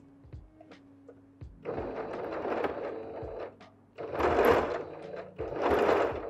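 Bursts from a sewing machine stitching a batik face mask, three runs of fast, close mechanical whirring with short pauses and small clicks between them.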